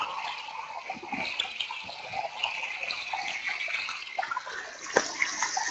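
Mountain river water flowing steadily in the Nagano mountains, a continuous broad rushing wash with small splashy surges, close and moderately loud with no talk.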